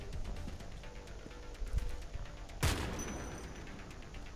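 Gunfire aimed at a tank in the shooter game Homefront The Revolution, heard as a sharp burst over steady battle ambience and scattered faint shots, trailing off in a rumbling tail.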